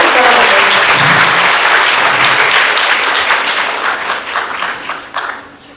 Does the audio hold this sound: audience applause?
yes